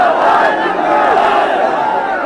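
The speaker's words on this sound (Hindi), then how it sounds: "लगातार वंदे मातरम और भारत माता की जय, शहीद अमन अमर रहें" A large crowd chants patriotic slogans in loud unison at a soldier's funeral, the massed voices close and continuous.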